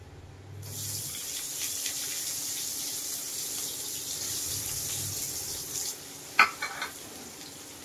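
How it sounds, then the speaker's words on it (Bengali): Chopped onion with whole garam masala is stirred and fried in hot oil, making a soft, continuous sizzle with a brief metallic clink near the end. "দিয়ে আমি খুব ভালো করে পেঁয়াজটা নেড়ে চেড়ে নেব"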